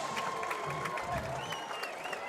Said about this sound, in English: With cheers from the home crowd.